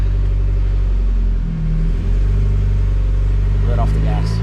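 A Mitsubishi Evo X MR car engine runs steadily at a loud, close idle with low rumble, dipping briefly before settling, as it is shifted into drive.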